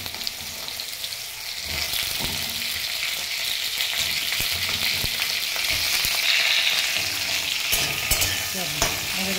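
Mixed vegetables sizzle in hot oil with bay leaf, cardamom and cinnamon, a loud steady crackle broken by scraping stirs and clinks of a spatula against the pan.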